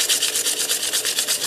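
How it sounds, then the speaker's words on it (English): Steady abrasive rubbing of sandpaper against wood spinning on a lathe, with a rapid pulsing rhythm, close and fairly loud with no voices. "Okay, so it's probably not done sanding"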